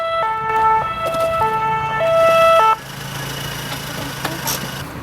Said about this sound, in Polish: przyjeżdża wezwana przez detektywa Sobolewskiego karetka